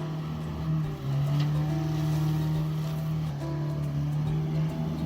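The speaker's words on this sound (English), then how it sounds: "The small sidewinder boat, powered by a 250 horsepower engine, charges through the rushing current" A small sidewinder boat with a 250 horsepower engine charges through river rapids, its engine a loud, sustained roar that dips briefly and shifts pitch as it surges and eases.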